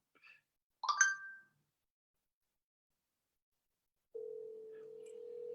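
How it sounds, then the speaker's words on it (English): A telephone is dialed during a live call: a few faint, brief electronic tones, a pause of silence, then a steady line tone, all quiet and without speech. "I am dialing her right now."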